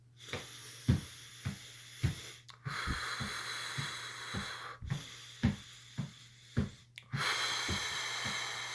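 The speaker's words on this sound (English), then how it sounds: "So what I do here is I inhale on 4 steps and I exhale on 4 steps." Steady rhythmic breaths while walking, sharp puffs inhaling over four steps and exhaling over four steps in an even tempo, close up, with a soft hiss of outdoor noise between them.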